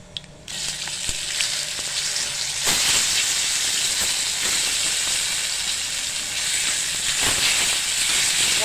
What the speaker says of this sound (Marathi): आता आपण वांगी टाकूया।